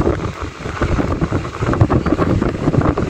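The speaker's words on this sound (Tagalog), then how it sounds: "Sumasayaw ang mga puno dahil sa sobrang lakas ng hangin." Strong, hot wind roars and buffets the microphone in continuous heavy gusts, loud and rumbling with no voices, trees swaying hard.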